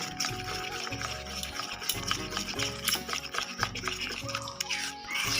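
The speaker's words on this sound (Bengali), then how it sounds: "এটাকে এবার ভালো করে আমি ফেটিয়ে নেব।" Lentil batter for jalebi, made with a few spoons of white oil, is beaten steadily in a bowl, giving a continuous wet, rhythmic slapping and stirring close up.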